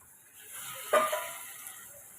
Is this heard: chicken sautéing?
yes